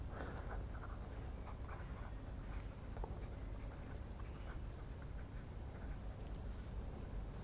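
A Nakaya fountain pen with a medium nib writes on paper, giving soft, close, continuous scratching with small irregular strokes and taps. The sound is quiet and steady with no talk.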